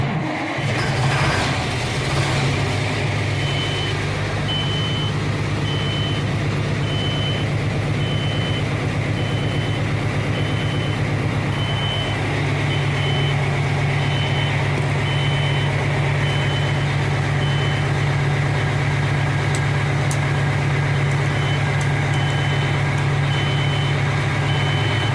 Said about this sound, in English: So you hear the buzzer.